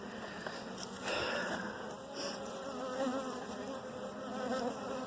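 Agitated honeybees buzz continuously at an opened hive during a split as a frame is lifted out, a dense, steady drone close by with faint handling noises underneath.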